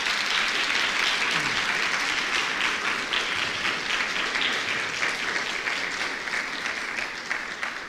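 A church congregation claps loudly in praise to God, a dense, steady wash of applause sustained throughout and easing slightly near the end.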